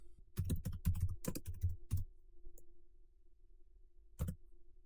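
Quick bursts of keystrokes on a computer keyboard, a rapid cluster of clacks followed by a pause and a single final tap, close and clear with no talking.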